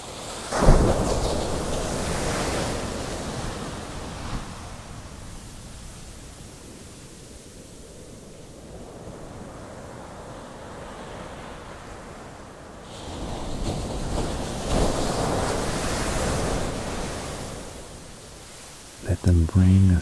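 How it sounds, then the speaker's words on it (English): Calming ocean waves roll in as broad, soft washes of surf that swell, ease into a quieter lull, then build again toward the end, steady and unhurried. "listen to the calming sounds of the waves"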